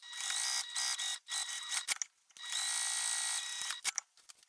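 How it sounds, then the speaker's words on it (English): A sewing machine stitching two long lines on fabric for a zipper opening, running in steady bursts of fast mechanical whirring with short stops in between, close and fairly quiet, no speech. "I'll just sew on these two long lines on this piece to make that opening."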